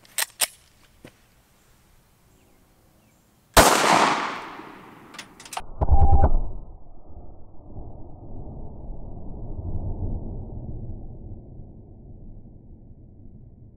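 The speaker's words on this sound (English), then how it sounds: "let's shoot the critical duty out of the Glock" A Glock 43 fires a Hornady Critical Duty round into a ballistic gel block: a few faint clicks, then one sharp, loud gunshot with a brief ringing decay, followed by lower rumbling and handling noise.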